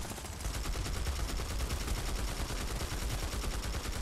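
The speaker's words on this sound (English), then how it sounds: "A little sniper or something tries to get at me." Dense, continuous gunfire from a sniper and other weapons in the video game Planetside 2 rattles on without a break, loud and close, with no talking over it.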